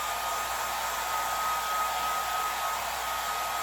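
A hair dryer blows steadily on a freshly painted stencil sign, a loud, even whoosh with a faint high whine running without a break from start to finish.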